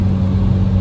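A 2022 Audi RS3 running through a new AWE Tuning aftermarket exhaust gives a brief, loud, steady engine drone with a deep low rumble.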